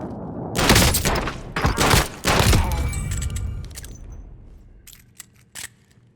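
Gunfire in the Call of Duty Warzone battle royale game: several loud bursts of rapid shots in the first few seconds, then a fading tail with a few sharp clicks and small pops near the end.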